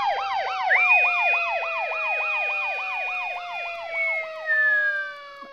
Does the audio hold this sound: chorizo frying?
no